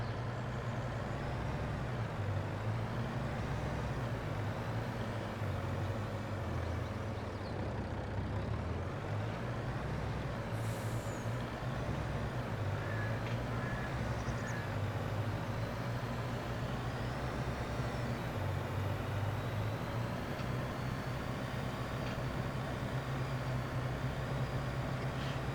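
Bobtail truck with no trailer rolling over a rough gravel road in Farming Simulator 22, a steady low engine drone with rattling rumble running continuously throughout.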